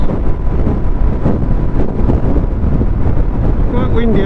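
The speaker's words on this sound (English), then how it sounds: "It's quite windy out today." Wind buffeting the microphone while out on a winter motorcycle ride on a Suzuki GSX-S1000 GT, a loud continuous low roar and rumble with gusty fluctuations throughout.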